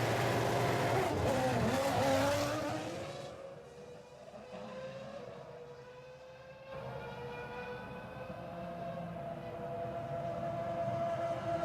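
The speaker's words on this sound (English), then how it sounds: "race leader Felipe Massa emerges from the pit lane" A Formula One car at the 2007 Brazilian Grand Prix in Sao Paulo pulls out of the pit lane, its high engine whine rising and falling as it passes. A second car follows, and the sound is moderately distant with no talk.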